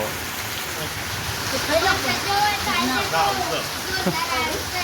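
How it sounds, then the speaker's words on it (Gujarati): Heavy rain pours down steadily as a dense, continuous hiss, with a voice talking over it throughout. "જોરદાર આવ્યો વરસાદ"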